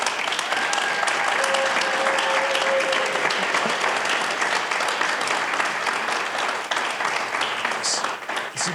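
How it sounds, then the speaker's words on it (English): A long, even round of applause from a seated audience at a small business program showcase for its graduates, dense and continuous, with a faint voice and whistle-like tone early on. "will you please stand up and get a round of applause for these guys, please?"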